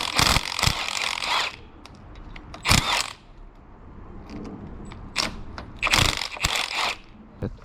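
Metallic ratcheting and clicking bursts from loosening the three ABC pump pulley cover bolts on a damaged Mercedes M113K AMG engine, coming in several short, close bursts separated by quiet pauses.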